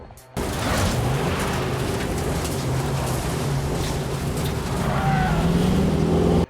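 A car-crash scene from the film Death Proof, where an oncoming car knocks Stuntman Mike's car off the road and into a field: a loud, steady roar of engine and rushing noise with a rising tire-like squeal near the end.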